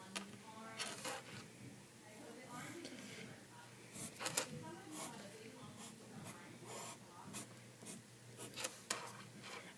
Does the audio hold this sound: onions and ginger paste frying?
no